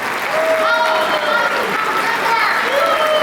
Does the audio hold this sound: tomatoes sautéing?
no